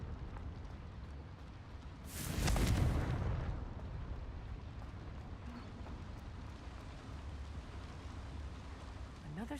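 A Confringo explosion spell goes off in the Hogwarts Legacy video game, a loud booming blast lasting about two seconds over continuous low game ambience.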